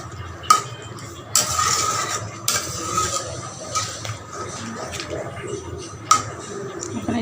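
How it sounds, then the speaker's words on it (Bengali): Catla fish kalia curry being stirred and mixed in a pan: a spoon scrapes and clinks against the metal in several sharp bursts over a steady low kitchen bed, with a voice faintly in the background. "একটু মিশিয়ে দিচ্ছি"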